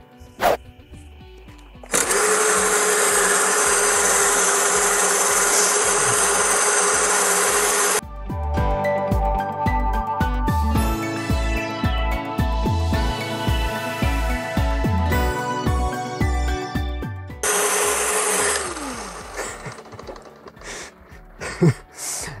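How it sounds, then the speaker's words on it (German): A Gardena 380Li cordless spindle lawn mower, tuned for higher spindle speed, cuts grass with a loud, even whirring rush that starts abruptly and runs for several seconds, then returns later after a stretch of other sound. "wir mähen mal eine Runde, ihr dürft dabei zuschauen"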